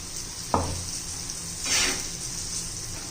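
Ground coriander-cumin powder tipped into sizzling chili masala in a pan, with a sharp clink of a utensil, then steady frying sizzle and a swell of stirring scrapes, close and clear with no talk.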